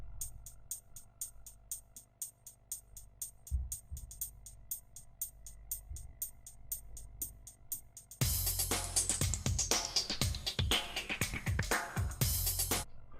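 Original electronic music track called Loops and Scales, a rapid ticking pulse over a low hum that suddenly opens into a loud, dense full mix with a sweeping descending tone and steady beats.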